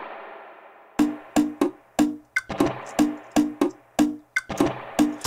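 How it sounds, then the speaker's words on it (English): Sharp plucked guitar hits in an uneven rhythm through a spring reverb, each one trailing into a splashy, metallic reverb tail, with no voices. "a weird kind of guitar sound like this, and you throw it in the spring reverb"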